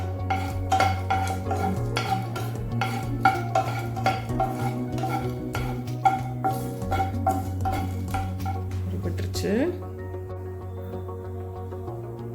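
Cardamom pods dry roast in a pan for sukku coffee, with a run of rhythmic metallic clinks and rattles from stirring over a steady low hum, fading near the end as the stirring stops.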